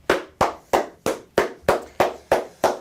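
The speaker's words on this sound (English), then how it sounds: "Everybody clap it up." Hands clap in a steady rhythm, nine sharp claps about a third of a second apart, close and clear with no talking.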